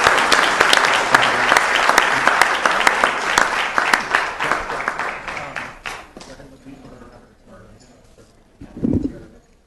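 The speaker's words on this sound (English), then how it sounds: "One more time, a round of applause." Applause at a city council and housing authority meeting, a dense burst of clapping from a roomful of people that fades out over about six seconds, followed by quiet room noise and a short voice.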